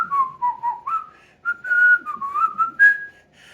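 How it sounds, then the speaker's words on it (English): A person whistles a wavering, slightly unsteady tune, a string of short and held notes close and clear against a quiet background. "I said I could whistle."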